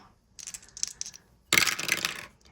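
Dice roll in a board game: a light rattle of small clicks, then a louder burst of dice tumbling and clattering across a surface, close and alone.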